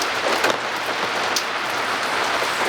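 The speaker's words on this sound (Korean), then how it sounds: "지금 비도 오고 낮이라서" Steady rain falls on a Suwon street in the daytime, a dense, even hiss of drops on surfaces that stays loud and unbroken throughout, with no voices.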